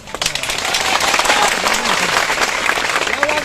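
Sustained applause from an audience at a Koli community gathering, dense steady clapping at full strength throughout with some crowd noise mixed in.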